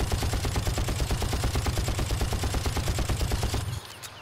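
Rapid automatic gunfire in the video game Far Cry, a dense, loud stream of evenly spaced shots lasting several seconds before cutting off abruptly into quieter ambience.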